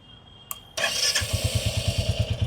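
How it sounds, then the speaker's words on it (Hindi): A Royal Enfield Bullet 350 Battalion Black motorcycle starts after a brief click, catching with a burst and settling into a steady, loud thumping single-cylinder idle close by. "एक बार इंजन को स्टार्ट कर लेते हैं।"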